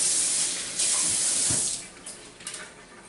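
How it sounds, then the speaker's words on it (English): Hands being washed under a running kitchen tap, a steady close rush of water with splashes as the hands move, tapering off toward the end. "Do a quick hand wash."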